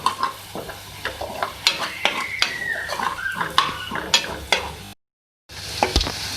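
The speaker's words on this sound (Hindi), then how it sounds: "अब इसके अंदर हम हल्दी पाउडर जो है ऐड करेंगे, 1/2 टीस्पून। उसको फ्राई करेंगे।" Onions frying in a pan with half a teaspoon of turmeric powder added, a spoon scraping and stirring in repeated clinks over a soft sizzle.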